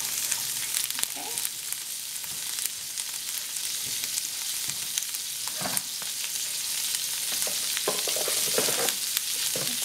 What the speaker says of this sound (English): So we're just going to let that saute a little bit.